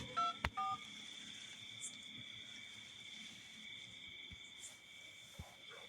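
A telephone keypad beeps out two quick dialing tones at the start of a call, faint and short, followed by a quiet background with a soft insect-like buzz.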